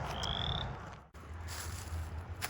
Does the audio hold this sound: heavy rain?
no